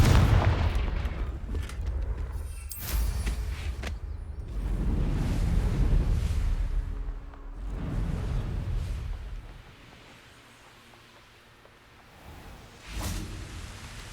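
Confringo fire spell blasting in Hogwarts Legacy, a run of booming explosive bursts with whooshing tails, loud and close, swelling and fading over several seconds with a final sharp burst near the end.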